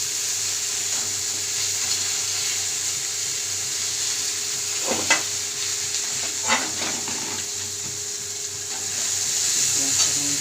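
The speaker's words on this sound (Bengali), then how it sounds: "পেঁয়াজটাকে আমি ভেজে নেব।" Onions frying in oil for a mustard-eggplant fish curry, a steady soft sizzle with a few scraping stirs of a spatula partway through, close and fairly quiet, no voices.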